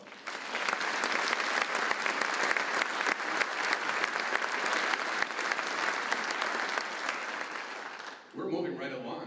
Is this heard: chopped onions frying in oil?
no